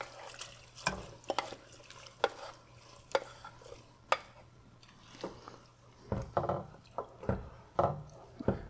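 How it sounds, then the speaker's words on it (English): Rice goes into a pot of cooking fava beans, a run of close splashes and stirring scrapes with sharp clinks, getting busier and wetter toward the end over a low steady hum. "Now that's the time to add the rice."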